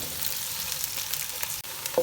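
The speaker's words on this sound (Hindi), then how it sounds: "इसको थोड़ा सा फ्राई करेंगे ऑयल में ताकि ये सॉफ्ट हो जाए" Roughly chopped onions frying in oil for a fish curry, a soft steady sizzle with light crackle close by, fairly quiet and with no one talking.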